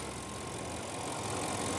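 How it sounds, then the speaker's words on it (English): Audi S6 4.0-litre twin-turbo V8 idling after a start, a steady, smooth low hum that holds evenly throughout with no revving. "And we've got our V8 twin turbo. Idling very happily."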